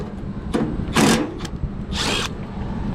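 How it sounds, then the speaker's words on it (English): A power drill spins in short bursts while screws come out of a panel on a York packaged rooftop HVAC unit, two main whirring runs close by outdoors with brief handling clicks between them. "Christian, let's get the drill. Let's take off this panel here."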